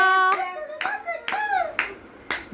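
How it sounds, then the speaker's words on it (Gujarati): About five sharp, evenly spaced hand claps at home during a baby's photoshoot, close and crisp, heard over a voice singing or chanting throughout. "તાળી પાડો ક્લેપ કરો"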